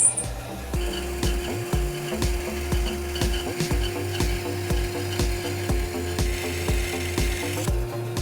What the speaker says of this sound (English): So over here on the bandsaw, I have a 3/16 of an inch 4 TPI skip tooth blade